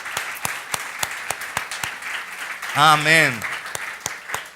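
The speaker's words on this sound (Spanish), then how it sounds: "¿Le podemos dar un aplauso al Señor?" Congregation applause in a church service, sparse claps running throughout with a voice calling out over it partway through.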